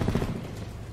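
A short, rapid burst of gunfire in Call of Duty: Black Ops 4 Team Deathmatch, a quick clattering volley that fades within a second.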